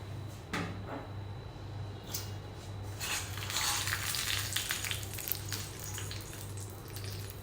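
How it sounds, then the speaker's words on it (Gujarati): A hot South Indian-style tempering is poured over coconut chutney in a serving bowl. A sharp burst of sizzling flares partway through and then settles into a softer crackle, heard close over a faint steady hum. "હવે એના ઉપર વઘાર રેડી લઈએ."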